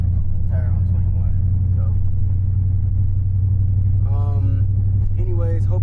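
A 600 hp Dodge Charger Scat Pack cruises at night with a deep, steady engine rumble heard close and constant from inside, with faint brief sounds on top.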